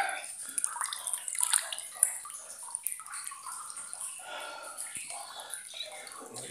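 Freezing water sloshes and splashes in a flooded underground tunnel at Badger Wood, with soft, irregular trickles and drips echoing faintly and a hushed voice-like murmur in the background.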